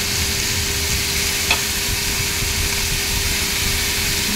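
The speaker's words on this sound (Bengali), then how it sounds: "দিয়ে আলু কচুরমুখিটা ভালো করে কষাবো।" Potato and taro pieces stir-fried in a pan, giving a dense, continuous sizzle close up, with one small scrape of the spatula partway through.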